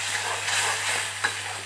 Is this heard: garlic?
yes